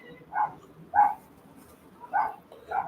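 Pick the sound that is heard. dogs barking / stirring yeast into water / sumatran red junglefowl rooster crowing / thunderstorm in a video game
dogs barking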